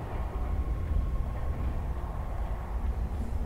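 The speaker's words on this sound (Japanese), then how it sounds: "誰が電車を動かしてんの？" A train runs in the video game Resident Evil 3, giving a steady, dense low rumble with faint mechanical hum that carries on without a break throughout.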